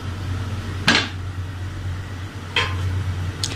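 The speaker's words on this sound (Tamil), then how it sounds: "இப்போ தோசைக்கல் மேலே நம்ம இதை எடுத்து வச்சிடுறோம்." A metal biryani pot of mutton biryani is set down on a dosa griddle with a sharp clank, followed by two lighter metallic knocks over a steady low hum.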